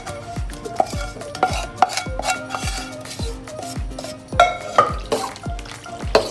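Garlic chicken is stirred in a pan over low heat: a steady run of quick, rhythmic spoon strokes scraping and clattering against the pan, close up, over a light sizzle.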